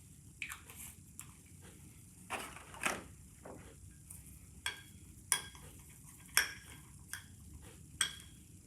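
A spoon stirs a thick, sticky granola bar mixture with colored add-ins, giving soft squishing scrapes and a series of separate clicks against the bowl, quiet and close.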